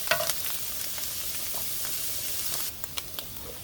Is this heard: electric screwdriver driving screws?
no